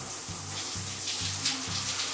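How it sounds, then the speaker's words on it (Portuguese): A household shower runs with a steady hiss of spraying water during a bath, with a faint low rhythmic thumping underneath and no talk. "Liga o chuveiro."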